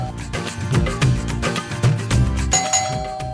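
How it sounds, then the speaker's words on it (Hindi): Repeated doorbell chimes ring out in a household comedy scene, a two-tone ding-dong pattern recurring several times over low background music, the last chime sustaining bright and clear at the end. "घंटियां बजा के सिर दर्द कर दिए मेरी"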